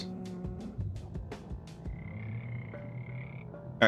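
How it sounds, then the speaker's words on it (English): Frogs croak in a Minecraft game, with a steady stream of low croaks under a faint tonal hum, ending in a sharp louder burst. "I can already hear the frogs."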